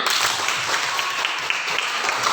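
Classroom of students applauding on cue from their teacher, a dense steady patter of many small hands clapping together, filling the room evenly from start to finish with no talk over it.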